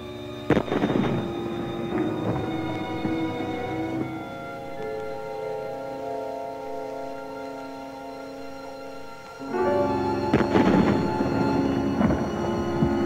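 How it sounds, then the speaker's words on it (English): Ceremonial artillery guns fire a royal salute, two heavy booms several seconds apart, each echoing and rumbling away, with a quieter spell between them. "That looked like number 3 gun. And now, number 4, fire."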